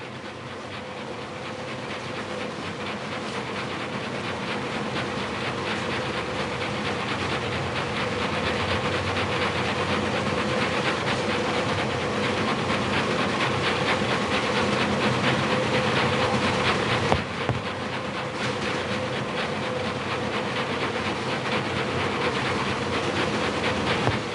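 Luxury train in the Murder on the Orient Express video game, running with a continuous rumbling rolling drone and faint rhythmic rail clatter, steady and fairly loud, one brief knock late on.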